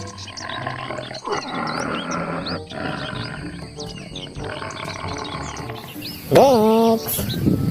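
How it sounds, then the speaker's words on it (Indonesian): A leopard gives rough, rasping roars in a row, with birds chirping around it, ending in one louder, drawn-out cry. "Nah, yang ini seekor macan tutul."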